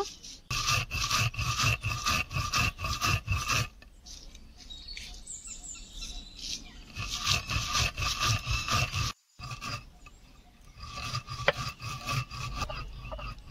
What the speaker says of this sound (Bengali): বন্ধুরা মশলাটা আমি এখন গুঁড়ো করে নেব।